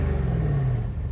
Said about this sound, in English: That is one fine V8 compressor, baby.